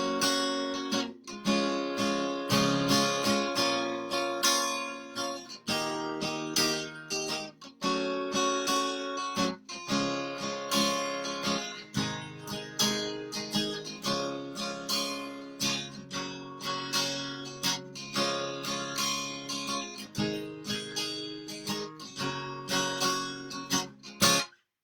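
Guitar strums the bridge rhythm of a song, steady chords in a driving pattern with brief pauses between phrases, close and loud with no voice over it for almost twenty-five seconds.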